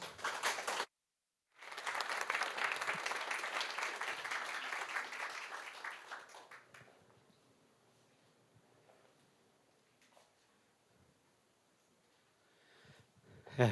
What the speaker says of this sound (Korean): 모두 큰 박수로 맞이해 주시기 바랍니다